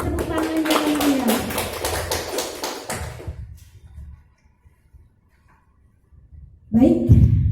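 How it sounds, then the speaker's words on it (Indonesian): Applause from an audience at a poetry book discussion event, several seconds of clapping mixed with voices, fading into near silence before a speaking voice returns loudly. "Beri tepuk tangan yang mulia."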